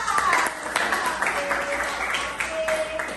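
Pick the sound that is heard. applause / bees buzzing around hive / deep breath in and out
applause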